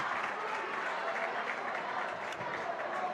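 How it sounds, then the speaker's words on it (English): A basketball crowd at a Floyd Central versus Jennings County boys' high school game claps steadily for a player heading to the bench, a dense, even patter of many hands filling the gym throughout. "And Floyd Central is clapping as they send him to the bench."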